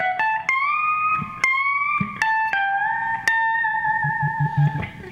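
An electric guitar plays a lick: picked notes bent upward a whole step and held with wavering vibrato, ringing clearly and alone in several distinct phrases.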